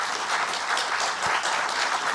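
Audience applause for Joe Biden at a speech event: dense, steady clapping throughout, fairly close and unbroken, with no clear talk over it.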